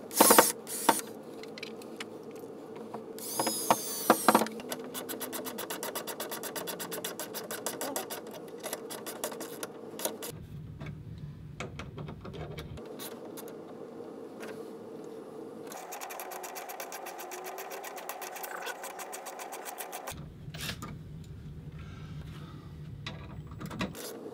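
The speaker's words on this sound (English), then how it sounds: "So let's get the bolts in now." Bolts driven up into a ceiling stud to hold a tilt-and-swivel flat TV ceiling mount, giving a steady mechanical whirring and ratcheting that runs almost without pause, with a few louder clunks near the start and no talking.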